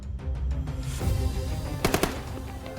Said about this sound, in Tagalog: ang sunod-sunod na putok na mga baril mula sa dalang M16 rifle na mga sundalo